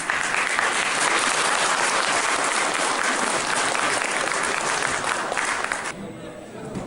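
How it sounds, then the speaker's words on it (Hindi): Crowd applause at a compounders' association meeting in Mithila, Bihar, thick sustained clapping that stays loud and then thins out and fades near the end. "एक तालियों बजा दियो ना।"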